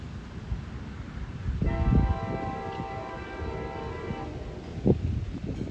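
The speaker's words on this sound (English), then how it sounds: "here comes Capital Core train" An Amtrak Capitol Corridor passenger train rumbles into Martinez, California, with a sustained horn blast in the middle, low rolling noise and clanks continuing after the horn fades.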